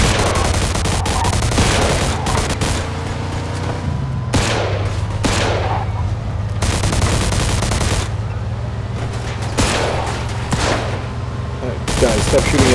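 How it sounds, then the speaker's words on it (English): Rapid gunfire in a police shootout in the video game Mafia 2: repeated bursts of automatic and single shots, loud and close, separated by short pauses, over a low engine-like drone with occasional voices. "Guys, stop shooting at the cops."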